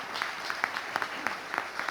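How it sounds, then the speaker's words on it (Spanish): Delegates at a national bank workers' union congress applaud steadily for colleagues from Banco Provincia. The clapping is dense and sustained from a large crowd, with a few sharper claps rising above the wash. "Un aplauso para los compañeros del Banco Provincia"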